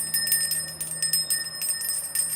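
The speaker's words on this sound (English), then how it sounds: "Let's ring a little fairy bell." A small fairy bell rings with bright, high, sustained tinkling tones, struck repeatedly in quick, uneven shakes, close and clear with no talking.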